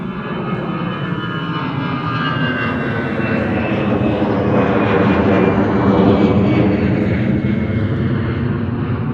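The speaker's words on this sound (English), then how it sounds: "Here's our second TUI Dreamliner." A TUI Boeing Dreamliner jet at London Gatwick Airport gives off a loud, sustained engine roar with a whining tone that holds through the clip and swells slightly as it passes close by.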